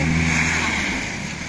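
A car in deep snow or mud on a rural road in the Kosiv area revs hard as its wheels spin and lose grip, a steady loud engine drone that eases slightly toward the end, close by.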